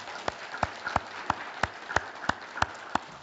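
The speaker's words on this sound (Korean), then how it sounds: "다시 한번 크게 박수합시다." Church congregation clapping after a special hymn by a men's choir during a Korean worship service, heard as a slow, evenly spaced series of about nine sharp claps, fairly faint and with no other sound.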